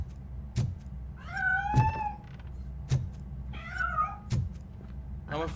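A cat meows repeatedly in RoboCop: Rogue City, several drawn-out, wavering cries spaced between soft thumps and footsteps over a low ambient hum, close and fairly clear with no talking.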